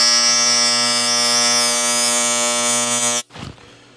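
TIG welding a bead on a cast aluminum meat slicer, a steady loud electric buzz with a strong harmonic hum that cuts off abruptly near the end, followed by a brief softer rustle.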